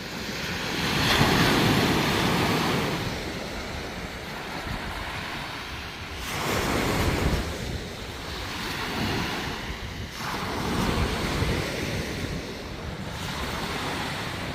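River water rushes outdoors along the Wangpicheon or Namdaecheon in Korea, a steady broadband wash that swells and eases in slow surges, with no voices.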